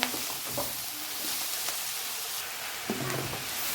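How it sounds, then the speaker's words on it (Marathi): Chopped fenugreek leaves sautéed with tomato in a pan give off a continuous soft sizzle, broken by a few spatula scrapes and taps; no one speaks. "मेथी आपल्याला व्यवस्थित शिजू द्यायची आहे। ही आता आपण परतून घेऊया।"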